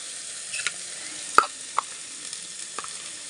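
Onions frying in a pan with oil, about to receive spice powders: a soft steady sizzle with a few sharp clinks and taps of a utensil, close and alone.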